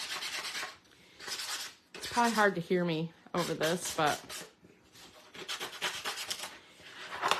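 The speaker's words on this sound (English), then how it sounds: "so while I'm sanding" Paper edges being sanded to distress a handmade scrapbook layout, a soft rasping rub that comes in short bursts between and beneath a woman's close, steady talking.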